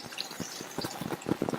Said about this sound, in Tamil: அடுத்து இதுல தண்ணி சேர்க்கிறேன்.